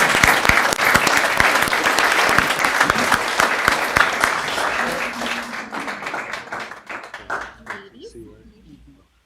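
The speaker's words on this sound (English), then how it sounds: "if you could just give them a round of applause" An audience at a school board meeting applauds students, loud sustained clapping from many hands that gradually thins and fades toward the end, with a voice speaking as it dies away.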